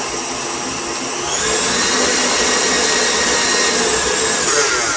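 An electric whisk whirs loudly and steadily as it mixes paleo, gluten-free banana nut bread batter, a close continuous motor drone that rises slightly after the first second.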